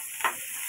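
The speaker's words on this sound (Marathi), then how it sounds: "आता आपण याला मस्त हलवून घेऊया." Onions frying in a pan while being stirred, a steady soft sizzle with one brief louder scrape of the stirring utensil, close and alone with no talk.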